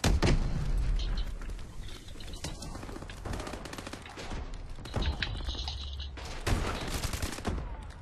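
Rapid automatic gunfire in Call of Duty: Advanced Warfare, with dense continuous bursts and sharp shots, loud and close throughout, punctuated by heavier thumps.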